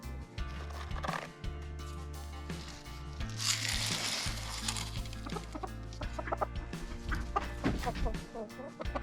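Chickens and roosters clucking in a busy farmyard in the morning, with low rumbling and scattered animal calls mixed in.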